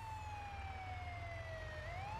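An ambulance siren in a farming and vehicle transport video game wails as a steady, sustained tone that glides slowly downward and then rises again, heard clearly over a low engine-like hum.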